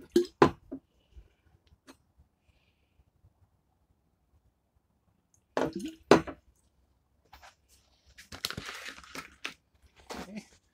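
Water drips onto a compressed napkin, a few soft wet taps and squishes separated by long quiet gaps, close and faint, with a brief denser wet crunch near the end.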